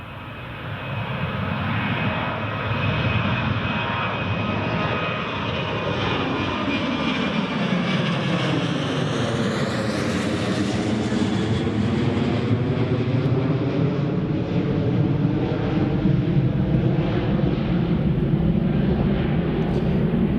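A Jet2 airliner bound for Kefalonia takes off from Newcastle International Airport with a loud, sustained jet-engine roar that builds and sweeps past, its pitch shifting as it goes by and then fading into a steady rumble.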